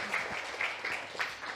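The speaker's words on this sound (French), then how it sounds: "Vous pouvez applaudir" Brief burst of audience applause at a talk, scattered claps at moderate distance over about a second and a half, without speech.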